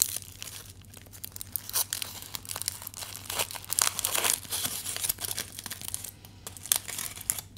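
A sandwich wrapper is opened close up, with dense crinkling and crackling bursts, occasional light tearing, and a low steady hum underneath; no voices.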